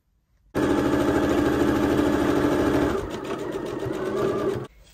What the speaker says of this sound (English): now I'm going to sew from here to attach the sleeve